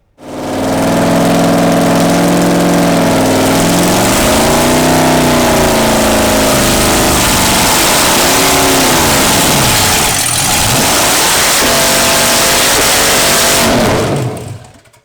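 An engine bolted by its crankshaft to a homemade DIY dyno revs loud and close, climbing and falling in repeated sweeps over a steady running roar, with no talk.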